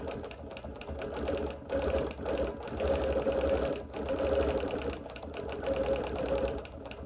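A sewing machine quilts around embroidered handwork on a busy-print block, running in a steady, continuous whir with brief pauses and speed changes throughout, fairly close and loud.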